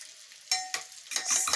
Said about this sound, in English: I'll be adding the egg inside the pot.